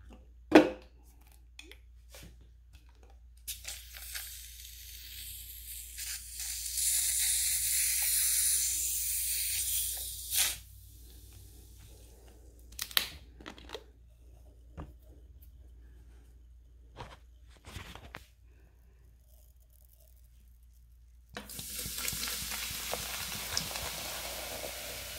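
Coca-Cola pours and fizzes with a soft carbonated hiss that swells for several seconds, fades, then returns later, with scattered clicks and handling noises in a quiet room.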